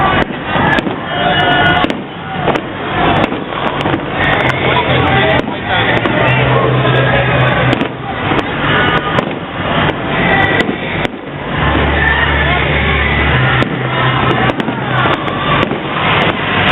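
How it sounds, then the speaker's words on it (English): Fireworks explode loudly in a dense, continuous barrage of bangs and crackles that goes on without a break, with faint voices now and then underneath. "The fireworks."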